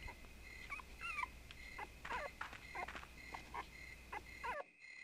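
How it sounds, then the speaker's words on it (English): A dog in the survival horror video game Rule of Rose gives a series of short, high whimpering yips and barks over a steady low ambient hum, spaced through the passage before cutting to silence. "she heard a dog's bark"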